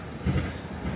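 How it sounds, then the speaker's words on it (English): A light rail tram on Augsburg's line 2 rumbles past close by in a brief, steady roll of wheels on track. "The light train here, line 2"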